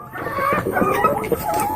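Chickens cluck on a poultry farm as recovering, healthy hens move about, their overlapping calls steady and close for a couple of seconds.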